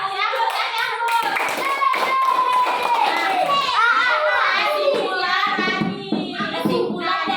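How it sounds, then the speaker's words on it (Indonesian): Schoolchildren at SD Muhammadiyah 25 applaud together in their classroom, a busy clatter of small hands that runs the whole time, mixed with excited children's voices and chatter. "Kasih aplaus, kasih aplaus."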